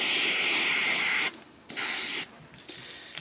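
An airbrush sprays black primer paint onto a fishing lure in close, steady hissing bursts: a long spray, a short pause, another burst, then a last rougher spray.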